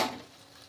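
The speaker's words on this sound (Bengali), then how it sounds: "তার আগে একটু পেঁয়াজটা নাড়িয়ে দিই" Onions fried in a pan on a stove are stirred briefly, a short scrape and sizzle that is loudest at first and then settles into a faint, steady frying hiss.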